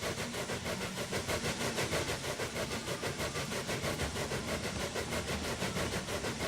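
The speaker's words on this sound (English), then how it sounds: "There goes the train." Train locomotive departing in the Railway Empire video game, a dense rhythmic chugging and rumbling with regular pulsing beats, loud and steady, with no voices over it.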